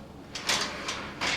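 A handmade wooden cabinet drawer slides in a workshop, giving two rough sliding strokes and a third shorter rub, close and fairly loud, with no talking.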